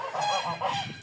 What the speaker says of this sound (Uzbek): G'ozlarni ovozi